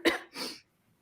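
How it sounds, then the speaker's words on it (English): A single person coughs twice, the first burst sharp and loud, the second softer and rougher, then quiet. "I have a cough."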